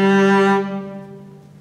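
Violin sounding the gruppetto passage from Lee Étude No. 12, a quick bowed ornament settling onto a sustained note that rings and fades, solo and close.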